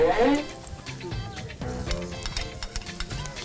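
Food sizzles while being sautéed and stirred in a pan during a Filipino home cook-off making tinola, a steady crackling fry with scraping stir strokes close up.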